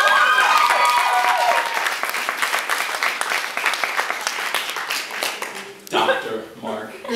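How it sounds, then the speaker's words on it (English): Audience applause at a comedy show fills the room in a dense, steady wash of many hands before fading, with a voice starting to talk over the tail. "another round of applause for Dr. Mark."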